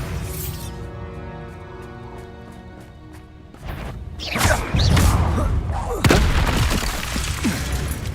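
Bombarda blasting spell explosions in Hogwarts Legacy gameplay, a series of loud booming bursts and crashes over game music, with spell incantations shouted between them.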